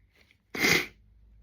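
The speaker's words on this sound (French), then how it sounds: "je suis désolée si je renifle, les gars" A single short, breathy burst of air through the nose, close and brief, like a sniff or small sneeze, in an otherwise quiet room.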